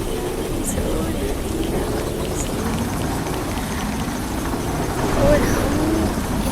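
Steady rain hisses through a Minecraft game world, a continuous broadband wash running under a voice speaking Hindi.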